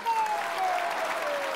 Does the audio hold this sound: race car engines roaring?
no